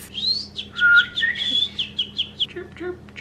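A human voice imitates a bird chirping, whistling a quick series of high, sliding chirps close up, about a dozen short notes in an uneven rhythm.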